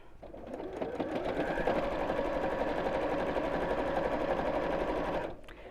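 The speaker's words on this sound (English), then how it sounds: "when you come to that section, reverse back over and then carry on sewing" A sewing machine stitches the handle of a reversible fabric bag, a fast steady mechanical whir with rapid needle ticking that runs for several seconds, then slows and stops near the end.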